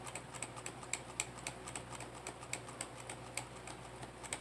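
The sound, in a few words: pressing the delete key repeatedly on a computer keyboard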